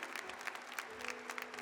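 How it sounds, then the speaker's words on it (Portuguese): A church congregation claps during Mass in a soft, distant, continuous patter of many hands, with a faint sustained tone underneath. "Aplauda com alegria"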